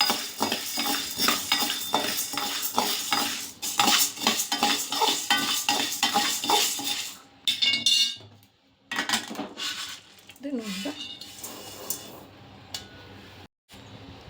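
Chakli ingredients stirred while being dry-roasted in a pan, with steady rhythmic scraping and clinking of a utensil against the pan, close and fairly loud, then a few sparser knocks and a brief pause near the end.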